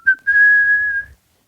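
A person whistles one short high note, then a longer steady tone held for nearly a second before cutting off, clear and close with nothing else around it.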